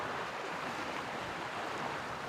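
A sailboat moving over open sea above a deep trench, with a steady broadband wash of water and wind rushing past, constant and fairly loud with no voices.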